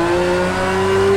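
Porsche race car engine in Project Cars 2 holding a steady, loud, sustained drone at constant revs, heard alone without talk.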